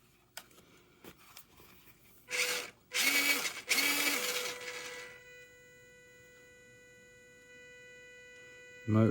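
Whining electric motor of a WPL C64-1 RC truck, with a few short loud revs and a gear buzz, then a steady high whine left running alone, close to the microphone.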